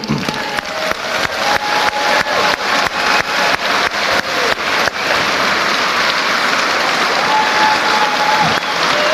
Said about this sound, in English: Let's ask them to stand up and give us a huge round of applause.